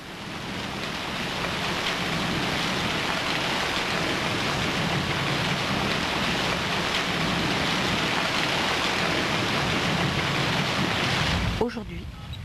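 Rain falling in the Camargue: a dense, even hiss of rainfall at full strength, broad and loud, continuing steadily before cutting off abruptly near the end.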